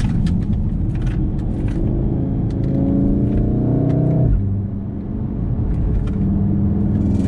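Volkswagen Golf with a Cobb tune on the stock engine, driving hard: a loud, steady engine drone climbs through the revs for several seconds, then drops sharply on a shift or lift before settling into a lower rumble.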